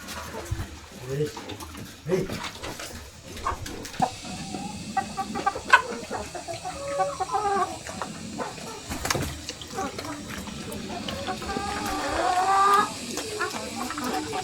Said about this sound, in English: This is my parents' flock of 30 chickens. They are all hens and there is only one rooster.